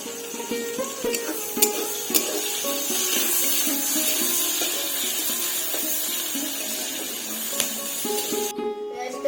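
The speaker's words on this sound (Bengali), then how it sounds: "রসুনটা ভাজা হয়ে গেছে" Scraped garlic frying in oil in a pan for a jackfruit and prawn dish, a steady close sizzle with occasional stirring scrapes and clinks.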